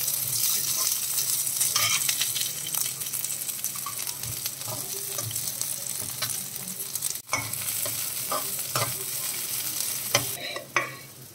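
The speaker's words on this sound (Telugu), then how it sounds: "వెల్లుల్లి చూడండి ఈ విధంగా ఫ్రై అవ్వాలి." Garlic and mutton keema fry in a pan with tomatoes and chillies, giving a steady, close sizzle with occasional stirring scrapes and clicks throughout.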